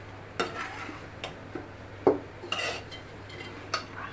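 A utensil stirs pasta in a pan, giving scattered scrapes and metallic clinks against the pan over a faint, low sizzle, close and fairly quiet.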